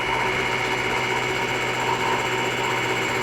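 A milling machine's power feed runs steadily in a workshop, a continuous close mechanical whir and hum with a constant, even level and no pauses.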